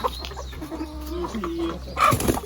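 Farm chickens, including a rooster, cluck in soft, irregular bursts close by at a traditional Kenyan poultry yard, with rustling and a louder flurry near the end.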